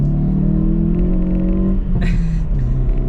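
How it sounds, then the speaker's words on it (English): A Hyundai i30 N's engine drones steadily from inside the cabin, then gives a quick rev-matching blip near the end, a short rise and fall in pitch over a continuous low rumble. "There's the rev matching feature."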